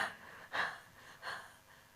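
Heavy, tired breathing demonstrated during a yoga class: two close, audible breaths, each a short rasping rush of air, with quiet between them.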